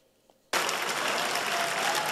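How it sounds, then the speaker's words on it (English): At the United Nations General Assembly, delegates burst into applause at the election of its new president, the clapping starting abruptly after a quiet moment and then holding at a loud, steady level. "A resounding applause for Professor Tijani Muhammad Bande"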